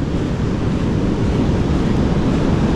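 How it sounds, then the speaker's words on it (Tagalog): Strong ocean surf on an Australian coast where people are surfing, heard as a continuous, loud, broad roar of breaking waves mixed with wind buffeting the microphone, with no voices. "Ayun, lakas ng alon, no?"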